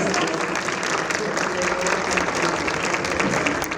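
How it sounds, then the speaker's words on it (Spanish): Panelists at a Bogotá digital-future festival session receive steady, full-room applause from the audience, with continuous dense clapping at an even, loud level throughout. "démosle un gran aplauso a nuestros panelistas"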